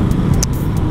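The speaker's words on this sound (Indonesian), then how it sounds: "macet banget ini, ampun" Heavy road traffic in a jam, heard while riding a motorcycle in a full-face helmet, a loud, dense, continuous rumble of engines close by with no clear individual pass-bys.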